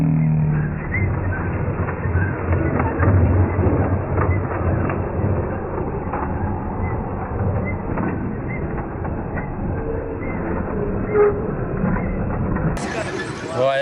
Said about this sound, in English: Here he comes, chugging down the tracks as we go.